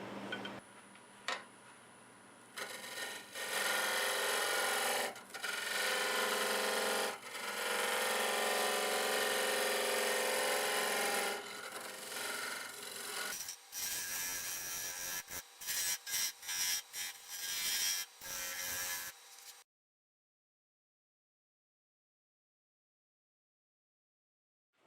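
A wood lathe turns a black locust bowl while its tenon is cut down to size: a steady, loud scraping and rubbing for about thirteen seconds, then broken into short cuts before stopping into silence.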